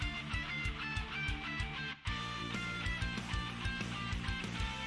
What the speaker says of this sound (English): So then I added this synth counter melody because I wanted to.